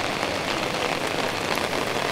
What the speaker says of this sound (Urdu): بارش ہو رہی ہے.